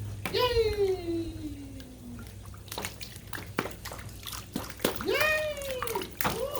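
Water splashes and drips in a bathtub as a child plays, with bright excited voices and squeals over the irregular sloshing, close and moderately quiet.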